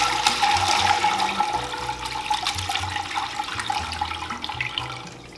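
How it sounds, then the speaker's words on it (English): Water drains from mozzarella cheese curd, a gushing, splashing pour like a running tap that is loud at first and slowly eases, with no voices. "now I'm going to drain our curd."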